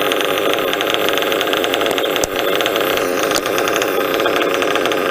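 A modified Reds 723 nitro model engine screams at steady high revs, loud and close with a buzzing, raspy whine and two brief dips in the drone.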